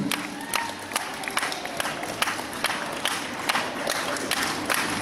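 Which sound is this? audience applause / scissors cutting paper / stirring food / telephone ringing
audience applause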